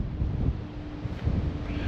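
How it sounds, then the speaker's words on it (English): Heavy wind buffets the microphone in continuous low rumbling gusts, with a faint hiss of open air behind it. "it's just too windy out here. I'm sure if you can hear me talk at all in this wind"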